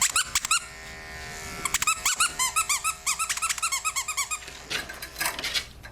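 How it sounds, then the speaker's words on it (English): A dog's squeaky toy squeaks in rapid repeated bursts during a grooming session, loud and close, over the steady buzz of electric clippers. "this is the time you need a squeaky"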